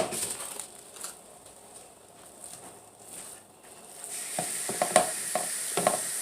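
Browning 2.5 pounds of ground beef in a pan on the stove gives a steady sizzle with faint stirring scrapes, then a few sharp clicks and taps near the end, with no speech.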